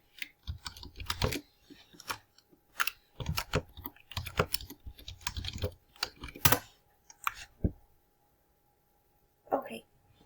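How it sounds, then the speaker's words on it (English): Clattering keystrokes on a computer keyboard in irregular bursts, close and moderately loud, with a couple of pauses and a final short flurry. "Let me type in my information real fast."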